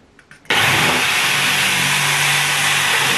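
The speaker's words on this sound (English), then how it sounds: "that's how I'm going to be drilling." A loud, steady electric drill whine starts abruptly after a few faint knocks and runs continuously at full intensity while drilling a board.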